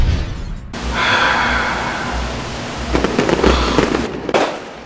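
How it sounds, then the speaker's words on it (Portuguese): Comic skit gunfire comes as a burst of sharp bangs under a steady loud background roar, with tight crackling pops clustered toward the end. "Abaixa, João, é tiro, é tiro"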